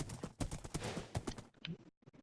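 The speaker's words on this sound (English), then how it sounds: "I put my horse in the pen." Horse hooves clip-clop in Minecraft in a quick, steady rhythm, fairly quiet, then break off briefly near the end.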